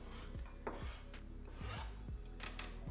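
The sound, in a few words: knife scraping vegetable peel aside on cutting board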